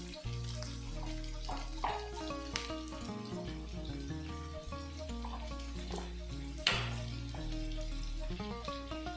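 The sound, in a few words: onions sautéing with turmeric powder and salt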